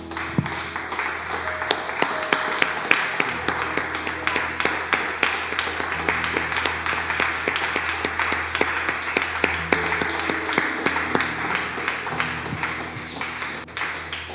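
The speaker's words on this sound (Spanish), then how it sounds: "Denle un aplauso al Señor, mi hermano." A church congregation claps in praise, a dense, sustained round of applause with rapid individual claps standing out, continuing evenly for over ten seconds.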